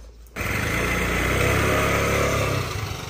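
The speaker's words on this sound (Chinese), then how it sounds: "开始碾米啊" A rice milling machine starts abruptly and runs as a loud, steady engine-like drone with a dense mechanical hum and rattle, close by and continuous, easing slightly toward the end.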